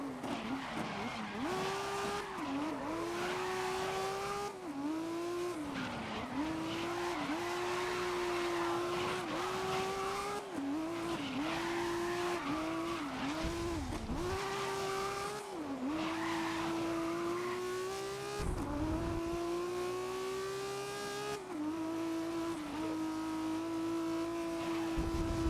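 A BMW race car in the video game GRID (2019) roars along the track, engine pitch rising and falling through gear changes and corners, with repeated tire squeals and skids, loud and continuous.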